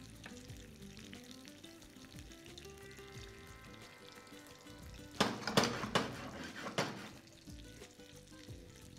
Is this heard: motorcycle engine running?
no